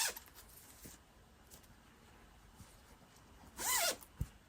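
The zip on a crochet bag runs open or shut in one quick, quiet rasp near the end, followed by a soft click, against a faint, hushed room background.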